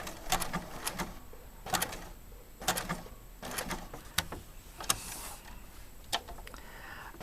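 Sewing machine running a blanket stitch along the edge of fused fabric appliqué, a series of short mechanical bursts with pauses between them, close and fairly loud with no talking.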